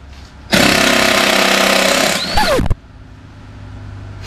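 Impact wrench driving a 3/4-inch nut through a chrome socket and extension on a 2003-2009 Dodge Ram Cummins 2500 during a brake job: a loud, close, sustained rattling hammer burst of about two seconds, a brief second burst, then quiet.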